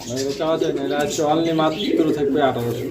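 A male blue shirting pigeon cooing repeatedly at a fancy pigeon market, close, rhythmic throaty coos in a steady series over low background noise.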